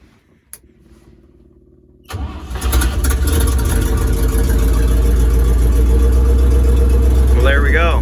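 A 1963 International Loadstar 1800 truck, unrun for over twenty years, gives a sharp click, cranks briefly, then fires and settles into a loud, steady, rumbling idle that continues to the end.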